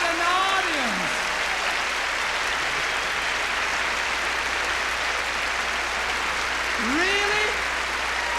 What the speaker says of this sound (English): You realize that's the biggest applause I've ever had in my lifetime?